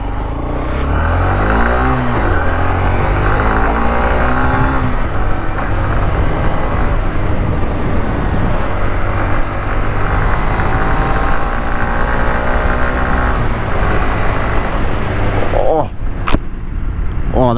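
A motorcycle on a road, ridden during practice for a MOD 1 learner bike test, roars close and loud through a long pull, its engine note climbing and dropping through gear changes, with wind noise underneath.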